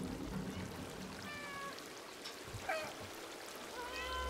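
A cat meows in the video game Stray, a couple of short mewing calls rising over a steady ambient trickle of water and soft background sound, fairly quiet and without speech.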